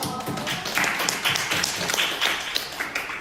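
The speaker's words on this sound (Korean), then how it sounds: "박수 한번 줄까요?" Applause from a church young-adult congregation during a Sunday service, a dense continuous patter of clapping lasting throughout, moderately loud and steady with no talk over it.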